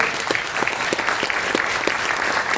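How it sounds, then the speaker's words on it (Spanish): Applause rises for a union comrade at a collective bargaining meeting, loud steady clapping with a few sharper, rhythmic claps standing out from the crowd. "Un aplauso para el compañero"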